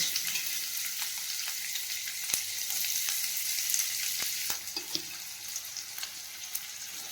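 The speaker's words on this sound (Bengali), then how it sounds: "এখন ফ্রাইং প্যানটা গরম হয়ে গেছে তো সেই কারণে এগুলো দিয়ে দিচ্ছি" Chopped ingredients for palak paneer go into a hot frying pan and set off a steady, close sizzle with scattered sharp pops and crackles, heard alone without talk.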